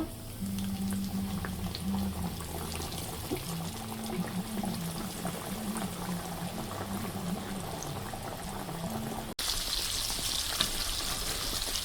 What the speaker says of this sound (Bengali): তোমরা খেতে পারো ওইভাবে মাছটা ফ্রাই করে